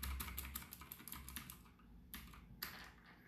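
Clicky, loud typing on a mechanical keyboard with Otemu Blue switches, part of a budget gaming keyboard-and-mouse kit: rapid close keystrokes in bursts with brief pauses, heard alone.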